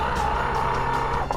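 Electric whine from a Harley-Davidson LiveWire electric motorcycle held on the brake for a power-brake burnout, a steady loud tone with tire scrub and skid noise, continuous and close.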